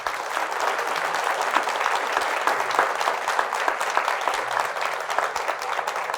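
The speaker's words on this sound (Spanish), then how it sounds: "Fuertes aplausos al Señor Jesús." A church congregation applauds at a Catholic service, with dense, sustained clapping from many hands filling the room at an even level from start to finish.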